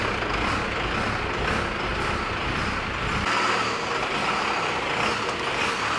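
A Nissan Patrol fitted with a Cummins diesel idles fast and steady up close, a constant low rumble holding an even, slightly raised pitch throughout.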